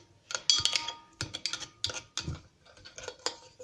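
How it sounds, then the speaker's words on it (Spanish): A kitchen spoon stirs a fresh parsley dressing in a bowl, making quiet, irregular clicks and scraping taps close by, with no talk over it. "A esto simplemente la cuchara que utilicé, le voy a dar unas vueltecitas aquí."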